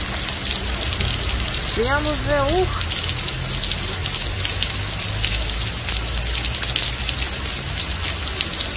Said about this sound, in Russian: смотри, какой дождь